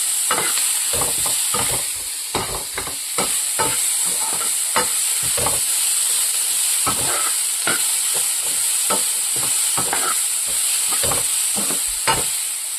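Dry prawns with turmeric stirred in a frying pan for beetroot thoran, a continuous sizzle broken by frequent sharp scrapes and taps of the spoon against the pan, close and busy, with no talking.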